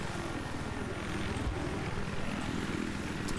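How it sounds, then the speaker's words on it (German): Helicopter in the Battlefield 3 Aftermath map Markaz Monolith, a steady, dense rotor and engine roar held close and loud throughout, with no talk over it. "Ich nehme jetzt den Heli"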